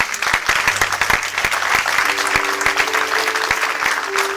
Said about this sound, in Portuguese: Aplauda bem forte Jesus por isso.